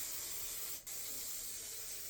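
3M High Strength 90 contact adhesive sprayed from an aerosol can in a workshop: a steady, close hiss that cuts out for a split second partway through, then resumes.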